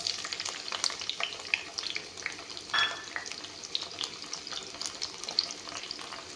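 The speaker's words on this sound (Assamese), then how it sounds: "এয়া ৰিফাইনটো গৰম হৈছে, পিঁয়াজখিনি দি দিম। এয়া পিঁয়াজ।" Onions frying in hot refined oil in a pan, a steady close crackling sizzle with scattered pops and a brief louder burst as they are stirred.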